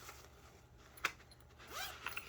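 A zipper pocket on a padded Daiso organizer is pulled open with a quick sharp zip, then a few small rustles and clicks of fabric and hardware, close and fairly quiet.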